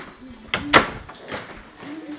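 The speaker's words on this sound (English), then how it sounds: "I'm gonna close this door." An indoor door is pushed shut with a couple of sharp knocks and a brief rattle, close by, while a voice makes short vocal sounds around it.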